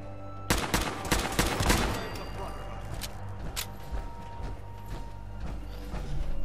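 Turret gunfire in Fallout 4, a rapid burst of sharp cracking shots early on, then scattered fainter pops while someone talks over it.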